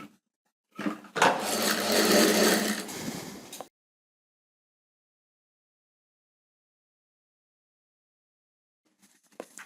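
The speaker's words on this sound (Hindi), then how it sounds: "यहाँ मिडल के ऊपर एक पहले स्टिचिंग लगा देनी है।" Sewing machine runs a short burst of stitching on a blouse neckline, a close, fairly loud whirring rattle lasting about three seconds, then silence, with a faint mechanical sound at the very end.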